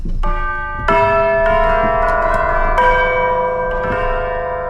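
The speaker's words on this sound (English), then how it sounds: "I would probably add some tubular bell hits to really bring home the like traditional church vibe" Tubular bells strike several times in a church-style orchestration, each hit ringing with bright, sustained metallic overtones that overlap and decay, loud and clear with no talk.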